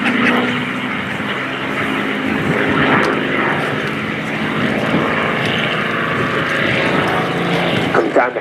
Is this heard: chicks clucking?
no